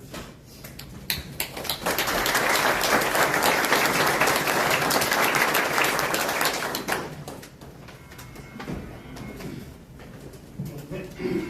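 Audience applause welcoming the first speaker at a memorial service, sustained clapping that swells, holds for several seconds, then fades into scattered claps and room noise.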